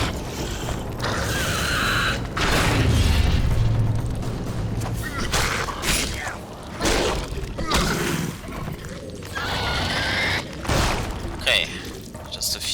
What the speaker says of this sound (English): That's a great explosion.